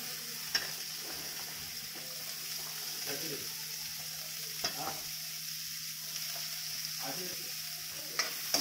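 Beans sauté in a pot for vegetable soup: a quiet, even sizzle over a low steady hum, punctuated by a few sharp spoon clinks against the pot.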